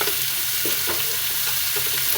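Onion frying in a pan beside freshly fried fish makes a continuous crackling sizzle of oil, close and even, with faint stirring knocks underneath and nobody speaking.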